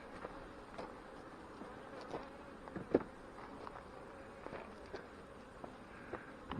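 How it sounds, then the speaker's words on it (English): Honey bees flying around an open hive in a fireweed-area apiary, a faint continuous buzzing hum close by, with soft scattered knocks and handling noises from the hive work. "This has also got a good amount of bee flight in it."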